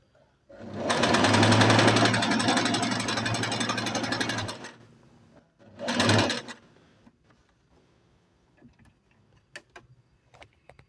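A Singer Inspiration sewing machine runs a 3-step zigzag stitch in a fast, dense mechanical rattle for several seconds, stops, gives one short burst, then falls to scattered faint clicks.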